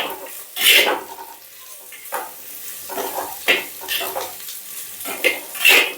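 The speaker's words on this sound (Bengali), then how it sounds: "প্রথমে আগে পেঁয়াজগুলো ভেজে নেব।" Onions frying in hot mustard oil in a heated clay pot, with a soft continuous sizzle broken by several scraping stirs of a spoon against the pot, close and moderately loud, no voices.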